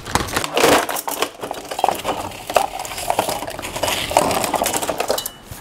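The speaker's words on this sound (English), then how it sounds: "I've got a nice Harbor Freight knife that I will use to extract this" A Harbor Freight utility knife slices and pries at sealed plastic packaging on a hacksaw set, giving close, irregular crinkling, scraping and sharp clicking crackles with uneven bursts throughout.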